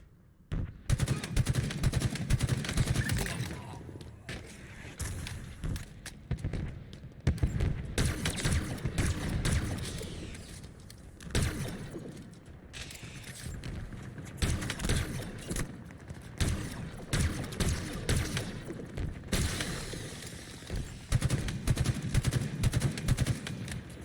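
Assault rifle fire in a Big Team Battle match of Halo Infinite, with rapid bursts of shots in repeated volleys, loud and close, separated by brief lulls and faint background speech.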